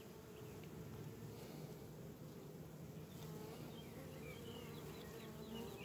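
Honeybees hum and buzz continuously around an opened hive during an apiary inspection, a dense, steady swarm drone with individual bees passing close by.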